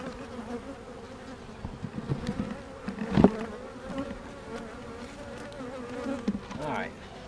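Honey bees buzz steadily around a beehive from a weak colony that was once a cutout, a close, continuous drone with occasional louder passes near the listener.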